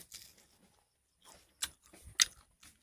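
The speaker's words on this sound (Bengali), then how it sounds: "আমি এই মাছ খাচ্ছি একটু খেয়ে দেখি প্রথমে আমি ফার্সে মাছটা খাচ্ছি" Fried fish being chewed and bitten close up, with a few soft crunchy bites separated by pauses and no talk.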